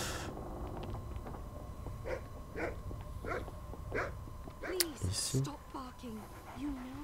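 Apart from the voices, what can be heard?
dog being fed in a video game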